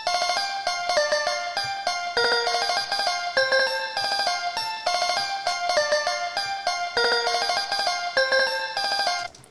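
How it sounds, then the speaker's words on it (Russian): Bright synth lead melody from a hyperpop track, playing alone as a loud, busy run of short staccato notes with a bell-like, chiming tone. "Вот такие у меня лиды."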